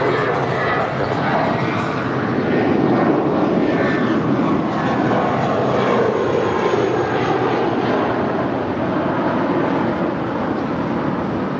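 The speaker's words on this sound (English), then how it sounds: "departing to Los Cabos with JetBlue 1463. It's an Airbus A320." A JetBlue Airbus A320 departing for Los Cabos, its engines giving a loud, sustained roar that swells and slowly fades, with some voices under the noise.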